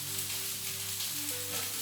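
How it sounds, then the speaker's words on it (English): Onions placed skin on, cut side down in hot fat in a pan, giving a steady close sizzle with soft crackle over a low background hum, no talk. "I place my onions skin on, cut side down in the pan just to heat and caramelize a little"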